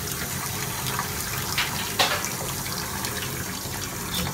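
Running tap water splashing into a sink while a seabass is scaled, steady loud rush with a few brief splashes and scraping knocks.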